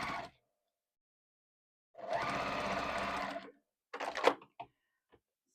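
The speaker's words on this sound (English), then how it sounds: "slide this under the machine with a 1/4 inch seam allowance" A sewing machine stitches quilt fabric along a 1/4 inch seam in one steady whirring run of about a second and a half, close and clear. Short clicks and handling knocks follow in otherwise quiet surroundings.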